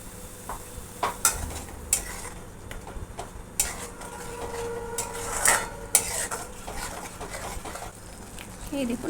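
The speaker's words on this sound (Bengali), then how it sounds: "দেখুন জারটা দিয়ে আমি একটু জলটা দিয়ে ভালো করে মশলাটা কষে নেব।" Masala paste is stir-fried with a little water in a pan for soya chunks, a continuous quiet sizzle under repeated light scrapes and clinks of a spoon against the pan.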